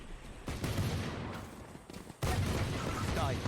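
Gunfire in Team Fortress 2, a cluster of loud, close bursts, a dip, then a sudden heavy blast that rumbles on.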